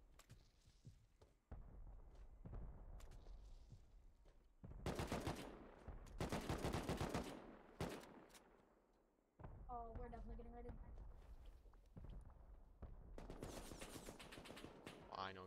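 Bursts of gunfire crack and rattle in the survival game Rust, several separate volleys including rapid automatic strings spread across the stretch, loud and close with quieter gaps of ambient noise between them.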